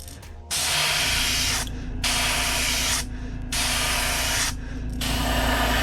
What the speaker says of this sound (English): I'm gonna go ahead and get a nice bright orange sprayed on there